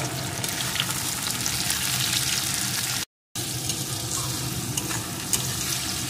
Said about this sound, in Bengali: এখন এটাকেও এর সাথে একটু ভেজে নেব।